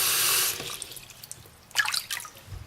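A Samsung Galaxy S5 phone is dunked into water, a brief rushing splash followed by quieter drips and sloshing, close and with no talking.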